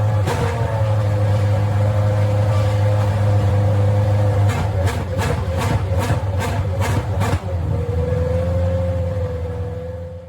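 Gran Turismo F3500-B custom race car engine in a video game, a steady loud drone with a rapid burst of sharp revs blipping up and down in the middle before settling back to a held tone.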